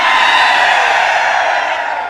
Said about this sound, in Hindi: कसूती भीड़ हो रही है।